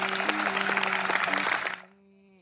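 Applause at a golf event, a few seconds of scattered, moderately distant clapping from a small crowd that stops abruptly, leaving a faint tonal hum.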